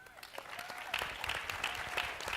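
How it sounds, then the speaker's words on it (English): Faint audience applause rises at an education summit after a young man is introduced, a soft, continuous patter of clapping from a distant crowd. "So give this young man a round of applause."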